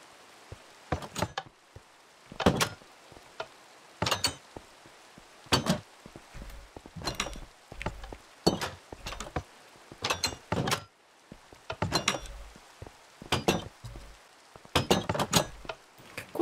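Doors in the Minecraft video game open and shut over and over, giving sharp wooden clacks in irregular bursts, close and fairly loud, with no talking.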